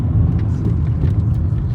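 A 20-year-old, high-mileage VW Golf 4 drives along, its engine and road rumble forming a loud, steady low drone heard from inside the car, with no talking.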